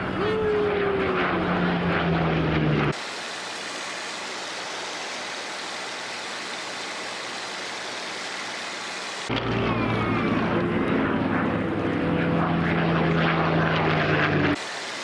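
Spitfire with a Merlin engine in flight, a steady loud droning engine roar heard from the cockpit throughout, while someone talks over it at the start and again near the end.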